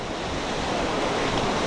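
A river in Slovenia rushing steadily, a dense continuous wash of flowing water close by, with no voices over it.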